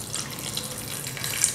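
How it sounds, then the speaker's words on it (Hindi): Water pours steadily from a vessel onto beef pieces for kababs, a continuous close splashing gush lasting the whole moment with no talking. "2 से 3 कप हम पानी डालेंगे।"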